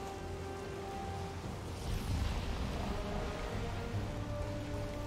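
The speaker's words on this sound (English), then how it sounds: "I hear lots of thunder and lightning" Steady rain hisses over a low, rolling rumble of thunder in the video game Valheim, a continuous broadband wash with a swell in the middle, no voices.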